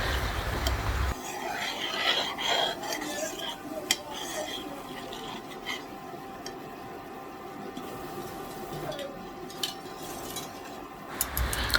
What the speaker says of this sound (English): I'm just go and toast the curry, and you don't want the curry to just burn up